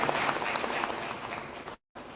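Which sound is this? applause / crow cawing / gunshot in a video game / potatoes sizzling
applause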